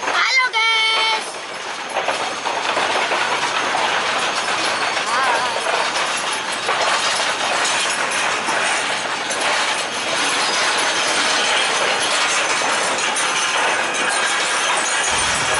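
A sugar cane train at the PG Kedawung mill pulls a string of empty lorries toward the plantation. It makes a steady rolling rumble with metallic clinks and rail clatter, and a voice talks over it.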